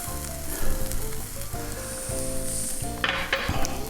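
Onions and pepper sizzle in a pan ahead of browning hamburger, a quiet, close crackle broken by several bursts of pan scraping and stirring clatter.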